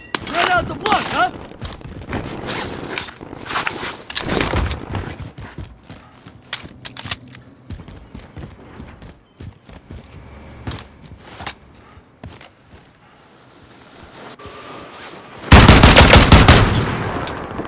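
Bursts of rapid machine-gun fire and single gunshots crack through a video game shooter firefight, loud and close at the start, then scattered and quieter shots, ending in a heavy sustained burst, with voices talking in the mix.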